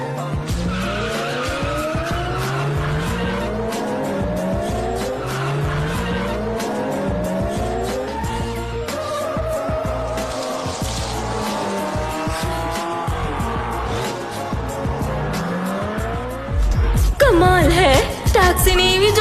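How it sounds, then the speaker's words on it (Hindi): Racing cars roar past with rising and falling engine whines and repeated tire squeals and skids, a taxi in the race overtaking a rival to win; loud and continuous, ending in a sharper burst of screeching. "टैक्सी ने ईवी जोन्स को ओवरटेक करके इस रेस को जीत लिया है।"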